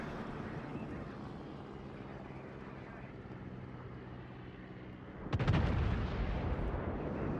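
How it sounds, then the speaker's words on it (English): Kaga strike planes attack in the World of Warships naval combat game: a steady, droning rumble of aircraft engines and sea ambience, then a sudden loud burst of gunfire and explosions near the end. "Kaga's strike plane's coming in."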